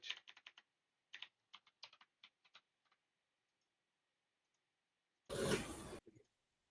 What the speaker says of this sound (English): I'm gonna type in bin slash sh